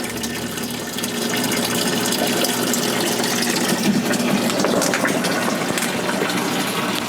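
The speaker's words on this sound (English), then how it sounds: "So as you can hear, the system is turned on. You can see it's filling up." AirCube ebb and flow grow system pump pushing water into its reservoir, a loud, steady close gush of pouring water that swells after the first second and runs on without pause.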